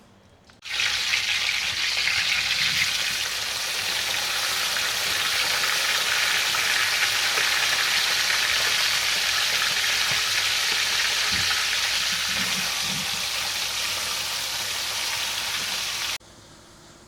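Pork pieces for Haitian griot frying in hot oil, a loud, dense, steady sizzle that starts abruptly and runs without a break for about fifteen seconds, with no talking.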